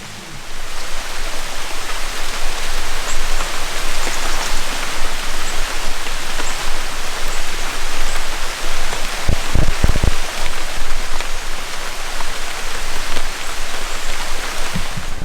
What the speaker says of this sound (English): it is raining today. Probably hear it.